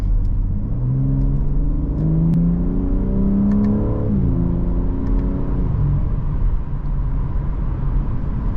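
A 2023 BMW M3 Competition xDrive (G80) accelerating hard, its engine rising through revs in a loud, close climb, a brief shift dip near the middle, then settling into a steady drone, heard from inside without talk.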